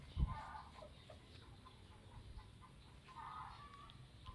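Soft chicken clucks come in short bursts at a distance, over a steady low background hum, with a brief thump at the start.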